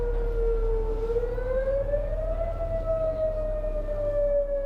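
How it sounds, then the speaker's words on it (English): A distant air-raid siren wails steadily, its pitch slowly rising and then holding, droning on without any other sounds. "Sounds like an air siren, doesn't it?"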